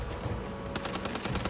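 Gun firing in the zombie shooter Back 4 Blood: a fast automatic burst of evenly spaced sharp shots, loud and close, starting abruptly partway in over a noisy game background.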